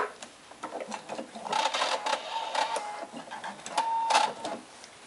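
A sewing machine stitches across the bottom seam of a reversible tote bag and locks the stitches, running in short close bursts with brief pauses, quiet and alone with no talking.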